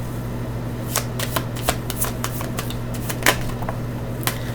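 A deck of tarot-style cards is shuffled near the microphone in short riffling bursts over a steady low electrical hum, with no talking.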